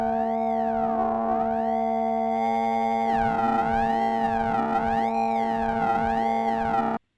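A DIVA software synthesizer's oscillator 1 plays a steady sustained tone with high filter resonance, its resonant overtones sweeping up and down in a slow repeating wobble, loud and alone with no voices.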